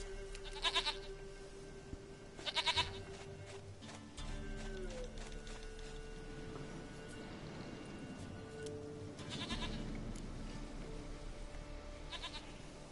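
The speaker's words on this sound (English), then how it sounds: "Goat of mine, dearest, sweetest goat." A goat in The Witcher 3 bleats in a few short, strained calls at close range, set against a low ambient game soundscape with no speech over it.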